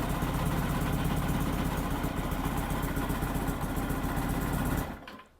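A Suzuki GSX1100 motorcycle engine idling with the choke out, a steady, loud, rough mechanical thrum that runs evenly for about five seconds, then abruptly cuts out and fades.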